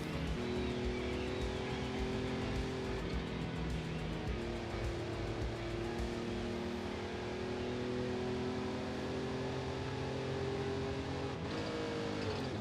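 Racing-game car engine in Forza Horizon 5 drones steadily and loud, pitch holding and shifting with gear changes including a rough misshift near the end, under constant game noise.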